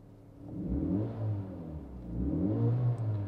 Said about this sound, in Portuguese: Agora eu mostrar para vocês o ronco desse carro, né?